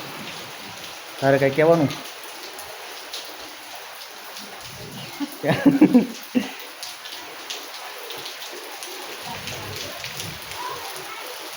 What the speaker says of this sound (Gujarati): વરસાદ ને વાવાઝોડું બંને એક હારે થઈ ગયું છે